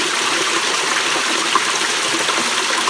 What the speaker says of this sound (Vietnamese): Ở trong này là suối tự nhiên ở trong rừng nha, không có cái gì độc gì.